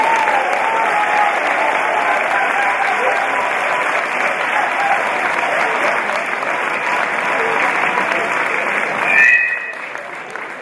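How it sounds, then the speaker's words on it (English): A congregation at a memorial home-going service claps steadily for about nine seconds, a dense sustained applause that fades as a voice begins near the end. "Come on, clap your hands again."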